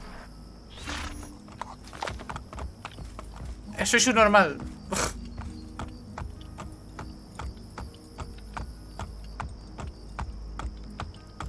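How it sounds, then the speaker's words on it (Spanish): Horse hooves clip-clop steadily in Assassin's Creed Brotherhood, a run of regular, moderately loud hoofbeats across the whole stretch while someone talks over them. "pero caballo"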